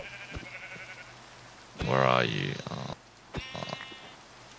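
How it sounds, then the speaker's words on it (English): Sheep in a video game give one long, loud bleat in the middle, followed by a shorter bleat, while a player talks over the game sounds. "I got some wool. I'm killing sheep."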